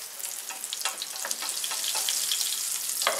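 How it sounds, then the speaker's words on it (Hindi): Pomfret fish shallow-frying in hot oil over a medium flame gives a steady, close crackling sizzle dotted with sharp spitting pops, with no voices. "तेल को अच्छे से गरम करके मीडियम फ्लेम पे इसे फ्राई"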